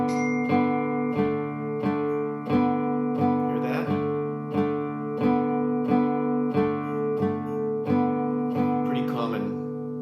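A guitar plays a riff, the fourth string sounded together with the third in steady, evenly spaced plucked pairs that ring out alone at moderate volume.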